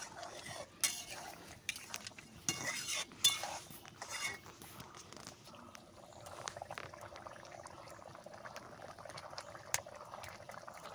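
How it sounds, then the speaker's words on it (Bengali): A thin prawn and pointed gourd curry simmers softly in a pot after the lid comes off, with a low bubbling and intermittent clinks of a spoon stirring it, faint and close. "একটু নাড়িয়ে নেব।"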